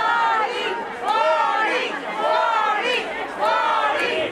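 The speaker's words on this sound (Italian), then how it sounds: "La folla invoca a gran voce sindaco e assessori." A protest crowd in Venice, including gondoliers, tour guides and street vendors, shouts at officials over COVID restrictions. The loud, massed voices rise and fall in rhythmic chanted waves, with short pauses between surges.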